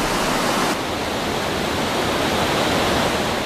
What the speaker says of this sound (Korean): 주변을 압도하는 웅장한 폭포 소리.